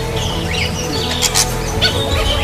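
A female lesser racket-tailed drongo gives a few short, bright chirping calls close by, set against steady low background hum and noise.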